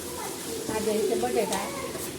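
Potatoes for bhungla bateta hit a hot pan of spices, raising a steady broadband sizzle that swells briefly as they go in, with a voice talking over the frying.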